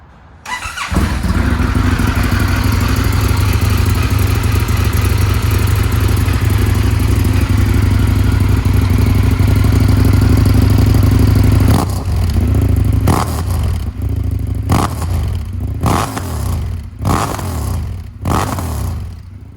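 Indian FTR 1200 motorcycle fitted with an Akrapovic titanium header, idling loudly and steadily for about twelve seconds, then revved in a series of sharp throttle blips with brief dips between them.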